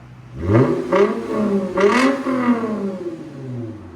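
A 2008 Lexus IS 250 with a 2.5L V6 and a Valvetronic Designs universal muffler revs with its valves open. Three or four quick, loud, close throttle blips rise and fall, then settle back toward idle.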